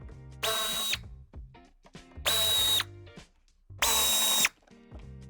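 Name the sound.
power drill removing screws from Audi A6 Avant underside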